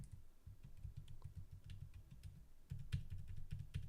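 Someone types quickly on a computer keyboard, a close, quiet patter of uneven key clicks with a brief pause before a denser burst.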